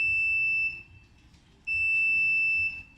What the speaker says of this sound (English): When the terminal connection is abnormal, the buzzer of the digital junction box rings.